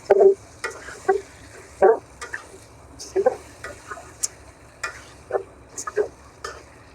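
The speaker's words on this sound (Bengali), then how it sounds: "এভাবে আমি তো ভালো করে কষিয়ে নেব।" Chicken curry masala sautés in a pan as a spatula stirs it, producing clustered scraping bursts and light knocks over a faint background sizzle.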